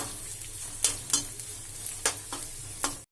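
Onion sizzling in hot oil for a chutney to go with chapati, a steady crackling fry broken by several sharp stirring scrapes of a spoon in the pan, close and alone.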